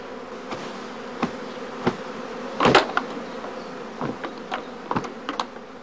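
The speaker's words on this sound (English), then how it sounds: "During the course of each swarming day, the prime swarms are packed in travelling boxes." Swarming honeybees fill a heather skep apiary with a steady, close buzzing drone, as individual bees whine louder as they pass near.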